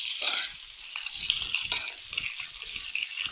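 Okra and mutton sizzling and frying in a karahi for bhindi gosht, a steady bright crackle with occasional stirring, close up and with no voices.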